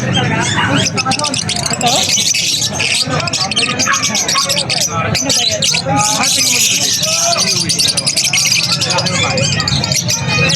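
Many caged birds chirping and tweeting at a bird market grotto, a dense continuous twitter close by, mixed with crowd chatter and people talking over it.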